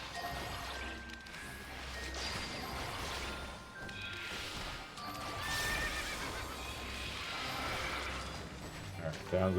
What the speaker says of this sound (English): Alright, down goes the horse.